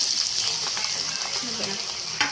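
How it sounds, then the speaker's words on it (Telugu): Green chillies crackle and sizzle as they hit hot oil in a pan for chicken curry, a loud, continuous close-up frying hiss with a few sharper pops. "ఇదిగోండి ఆయిల్ వేడయ్యిందండి దీంట్లో మనం పచ్చిమిర్చి"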